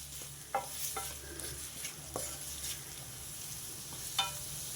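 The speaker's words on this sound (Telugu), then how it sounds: "ఈ ఉల్లిపాయలు కొంచెం వేగాలి" Onions with a pinch of salt frying in a pan, a steady low sizzle broken by a few sharp scrapes of a spoon stirring them, close and fairly quiet with no talking.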